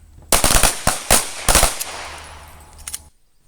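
Handgun shots fired at targets during combat accuracy drills, several loud, sharp reports close by in quick clusters with short gaps, echoing briefly after each volley.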